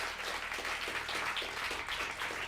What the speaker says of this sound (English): They are clapping for Chester Bennington.